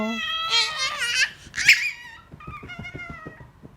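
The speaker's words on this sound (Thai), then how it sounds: "แมว" A cat gives a couple of close, drawn-out meows, followed by softer babbling sounds.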